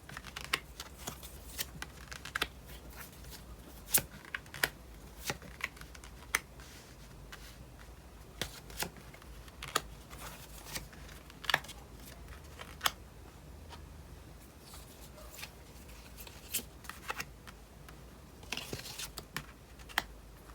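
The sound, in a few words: tarot cards being drawn and laid out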